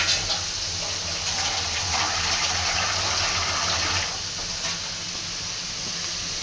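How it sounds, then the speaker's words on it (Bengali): Water is poured into a pan of fish curry with okra, a close, steady gushing hiss that hits the hot pan and then settles into a quieter continuous rush, with no voices. "এবার আমি একবারে পানি দিয়ে দিব।"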